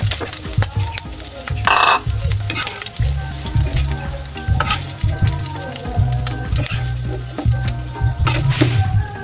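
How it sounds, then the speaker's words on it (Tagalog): Onion and garlic sautéing in a pan for chicken gizzard and liver sisig, giving a loud, steady sizzle with stirring scrapes and clanks throughout. "Siyempre dyan tayo nagigisa ng ating sibuyas at bawang."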